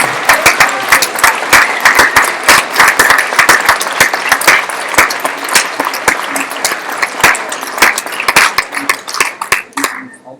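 A room full of people applauding at a Northwestern University divestment hearing, dense rapid clapping at steady strength for several seconds, then thinning out and stopping near the end.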